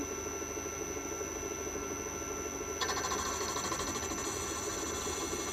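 A gem faceting machine cutting a facet on a hydrothermal emerald, a steady close mechanical whine and hum with a constant high tone, its grinding texture turning rougher partway through as the stone meets the lap.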